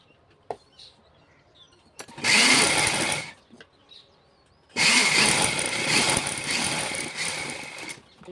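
A sewing machine stitches darts on a prince-cut blouse in two bursts, a short run of about a second followed by a longer steady run of several seconds, fairly close and loud with no talk over it.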